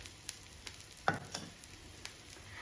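Sweet ragi adai frying in coconut oil in a village-style open kitchen, a soft steady sizzle with a few sharp taps and stirring clicks.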